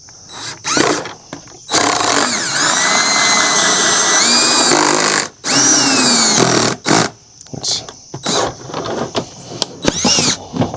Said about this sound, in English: we are going to drill 2 holes in the bucket on the top